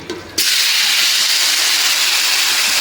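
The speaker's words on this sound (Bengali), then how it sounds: "এই যে এখন দিয়ে দেবো কুচু" Taro pieces hit hot oil in a wok and erupt into a loud, sudden, continuous sizzle that holds steady after a brief quieter moment at the start.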